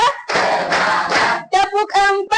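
A class in a teacher-training maths lesson does a counted clapping ice-breaker: a burst of group hand claps for about a second, then voices chanting in rhythm, close and loud.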